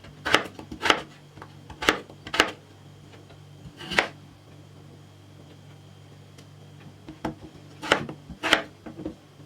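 Knife chopping five peeled, washed potatoes into medium pieces on a board: sharp, close thuds in quick pairs and clusters, separated by short pauses, with a low steady hum underneath.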